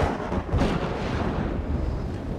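Low, continuous rumbling thunder during a storm, a broad heavy roll that swells slightly early on and then sustains at a steady level throughout, with no voices.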